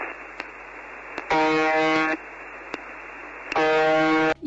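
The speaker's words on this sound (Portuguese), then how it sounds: "Um chiado, parece uma buzina de navio." A mysterious radio station transmission: steady static hiss broken by two long, loud horn-like tones resembling a ship's horn, each lasting close to a second, with small clicks between.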